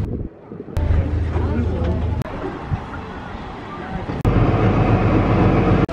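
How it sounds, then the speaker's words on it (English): A train engine at a station near a ferry gives a low, steady diesel rumble with gusts of wind across the microphone and abrupt cuts in level, outdoors. "The train's in the station. There's the engine going to turn round."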